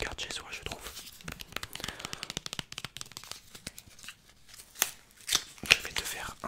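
A small sealed pack of playing cards is handled close up, with soft crinkly taps, rustles and scraping clicks in irregular bursts, quiet and intimate.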